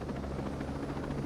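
A helicopter's rotor and engine give a steady, close, low droning rumble that holds evenly throughout with no break, and no voices are heard.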